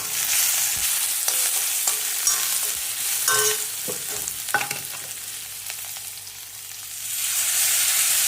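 Green chillies roasting in a pan for kharda, a close, steady sizzle broken by repeated scraping and tapping of a spatula against the metal, fading slightly toward the end with no voices.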